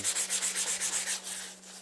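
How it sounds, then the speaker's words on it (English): Rhythmic sanding of a Ford Super Duty fender flare, about a dozen even back-and-forth strokes of abrasive rubbing on a surface, close up, slowing and fading slightly at the end. "Still sanding."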